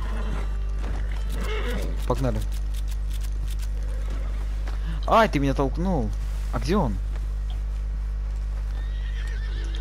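A horse in a video game whinnies in several rising-and-falling neighs around the middle, over a steady low hum, with people talking in between.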